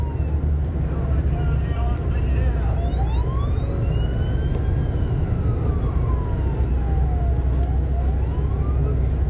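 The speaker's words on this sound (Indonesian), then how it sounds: "bunyi sirine meraung" An emergency siren wails in rising and falling sweeps above a heavy, constant rumble, at the scene of a bus crash in Madinah.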